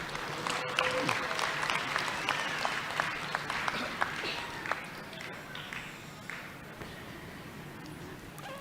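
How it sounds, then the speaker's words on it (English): Applause for a teen guest seated in the VIP section at a Navajo Technical University spring commencement, a scattered clapping crowd with some murmuring, fairly soft and fading toward the end before a sharp bump. "Give her a round of applause."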